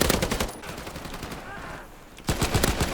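Rapid bursts of gunfire in a World War II video game at the start and again near the end, loud and close, with quieter game ambience in between.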